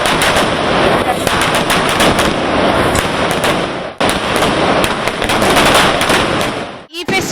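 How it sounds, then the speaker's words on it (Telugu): Firecrackers and fireworks crackle and burst in a dense, continuous rapid-fire barrage during a Diwali-season celebration in a Srikakulam neighbourhood. The sound is loud and close, with a brief pause midway and a sharp final burst. "వివిధ రకాల బాణసంచా కాలుస్తూ సందడి చేశారు."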